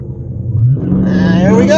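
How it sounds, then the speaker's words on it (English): A Dodge muscle car (392, Scat Pack, SRT or Hellcat class) idles low and then revs up at a drag strip start line, a loud, close rumble that rises and holds, with someone talking over it. "We're gonna rev it up."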